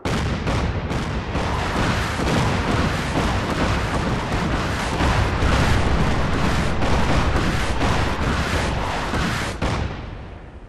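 Artillery barrage called in on a target in Fallout 4, a dense, continuous roll of heavy booms and explosions sustained loudly for about ten seconds before tapering off.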